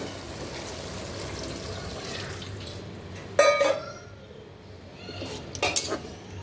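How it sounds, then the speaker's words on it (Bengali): Water is poured into a pan of rohu fish curry cooked with potato: a short splashing gush that lands suddenly mid-clip over soft kitchen clatter, with a few utensil clinks following. "এখন আমি জল দিয়ে দিব"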